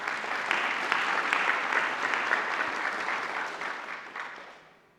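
A symposium audience applauds the organizing committee, dense even clapping that holds steady and then fades away near the end.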